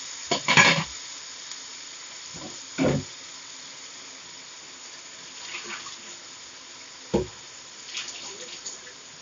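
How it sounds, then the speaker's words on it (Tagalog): Broth added to chicken giblets sizzling in a pan, a steady hiss broken by a few short louder splashing and stirring bursts, close by. "Sasabawan ko ngayon yan. Lalagyan ko ng sabaw."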